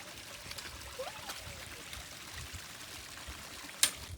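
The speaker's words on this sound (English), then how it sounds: "River crossing!" River water flows and trickles steadily at a hiking trail crossing, a soft continuous wash close by, with faint footsteps splashing through and a sharp click near the end.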